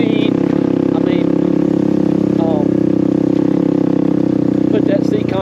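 A Suzuki DR350 dual-sport motorcycle engine drones steadily and loudly from close by throughout, with someone talking over it on a mountain ride.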